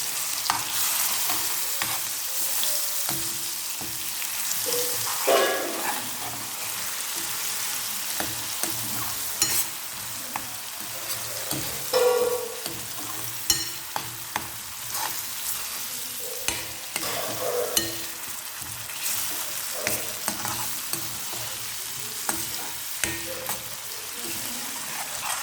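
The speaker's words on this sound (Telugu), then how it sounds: "ఈ ఆయిల్లోకి మనం మిక్సీ పట్టుకున్న ఈ పేస్ట్ అయితే వేసుకోవాలి." Ground spice paste for a brinjal curry frying in a tablespoon of oil in a pan while being stirred: a steady, close sizzle with scraping stir strokes throughout and no talk.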